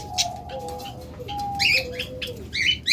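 Budgerigars, including rainbow and red-eyed albino pairs, chirp in quick bright bursts close by, over steady low background noise, with a thin whistled tone sounding in the first half.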